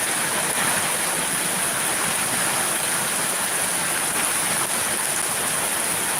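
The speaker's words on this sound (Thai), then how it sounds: "บรรยากาศฝนตกนะคะเด็กๆเล่นน้ำฝนกันนะคะทุกคน" Heavy rain pours down steadily in Surin, Thailand, a dense, loud, unbroken hiss of falling water with no pauses.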